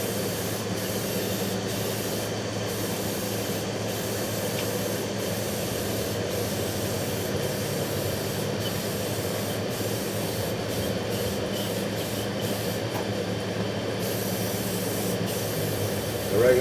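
Aerosol spray can coating motorcycle parts for a bobber build, a steady continuous hiss running close and fairly loud throughout with slight gaps between passes, no talking.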